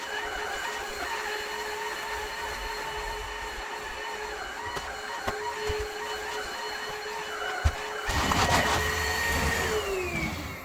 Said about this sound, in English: even though it's a really quiet vacuum.